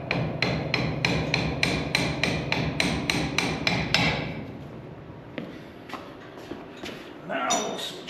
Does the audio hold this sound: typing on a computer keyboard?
no